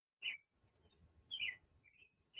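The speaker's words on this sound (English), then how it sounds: "Oh, hear the birds." Birds chirp outdoors in short bright calls, two louder bursts and a few fainter tweets, over quiet low background rumble with no talking.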